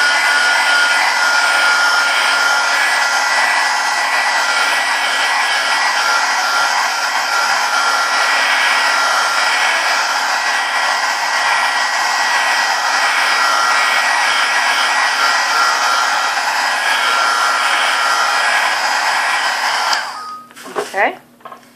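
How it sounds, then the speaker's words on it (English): A heat gun blows steadily to dry Mod Podge brushed onto a homemade canvas, giving a loud, close, continuous whirring hiss that runs unbroken for about twenty seconds before cutting off with a few brief clunks. "let me heat gun again"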